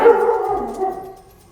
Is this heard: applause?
no